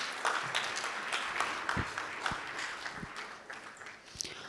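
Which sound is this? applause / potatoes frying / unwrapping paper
applause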